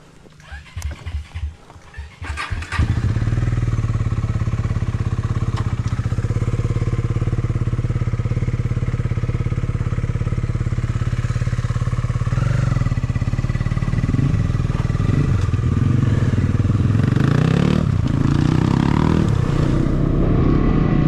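A motorcycle engine runs steadily during a relaxed ride, a loud continuous low drone after a brief sputtering start, with faint wind and little else.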